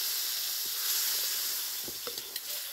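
Mustard seeds, urad dal and cumin sizzle in hot oil while tempering spinach kootu, a steady close hiss with a few sharp pops and crackles near the end.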